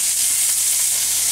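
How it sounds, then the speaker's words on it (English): Green pepper sizzling with bacon in a pan for country style scrambled eggs, a bright steady hiss, loud and close, with no talk. "now I'm going to add our 1/2 cup of green pepper"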